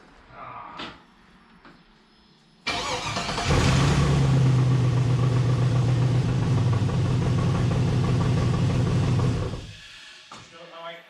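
A V8 engine in an LS-swapped Chevrolet S10 with eBay headers, exhaust leaks and O2 sensors removed cranks and catches, then idles loudly and steadily for several seconds before shutting off, with brief faint voices.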